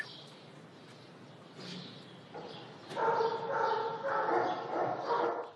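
Kangal dogs on a farm yip and whimper in short bursts, with a few higher barks in the second half, fairly close against a quiet outdoor background.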